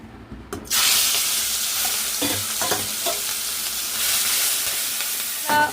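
Green chillies and onions fry in hot oil, giving a loud, continuous sizzle that bursts in suddenly and carries a few stirring clinks and scrapes, with no voices.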